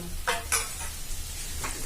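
Spice paste frying in a kadai while a spatula scrapes and stirs it, quick scraping strokes over a steady low sizzle, close and alone.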